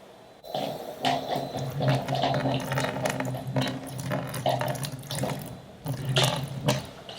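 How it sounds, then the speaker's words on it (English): Tarn-X silver cleaner pours and splashes steadily into a dish pan in a sink, a continuous close gurgling flow with slight fluctuations in strength. "I will pour some Tarn-X into that"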